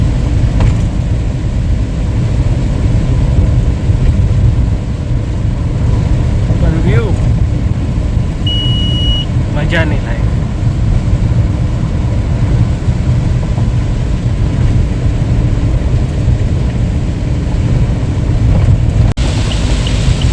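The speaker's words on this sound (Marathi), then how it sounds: "आला जोरात पाऊस, वाटत नाही आता इथे तुम्हाला व्हिडिओमध्ये, पाऊस मजबूत आहे." Heavy rain drumming steadily on a moving car during a drive through a jungle shortcut near Chiplun, a dense continuous roar with engine rumble beneath and someone speaking briefly.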